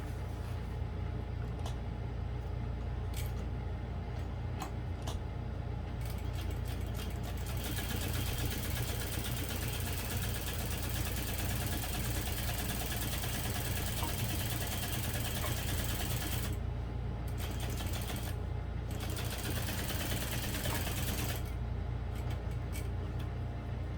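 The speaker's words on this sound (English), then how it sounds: "I'm just going to actually stitch across here" A sewing machine stitches across a handle on the drop-in lining of a barrel bag, running as a continuous close mechanical hum and whir with slight changes in pace and no talking.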